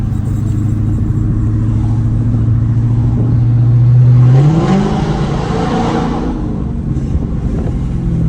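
A car engine with loud, raspy exhaust from a mid-muffler delete drones steadily, then revs up sharply and settles back into a rumbling idle, in a tunnel.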